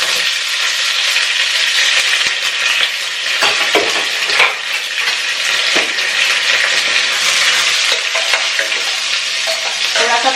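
Mustard seeds and curry leaves crackle in hot mustard oil, a loud dense continuous sizzle with popping and stirring throughout, close up and without speech.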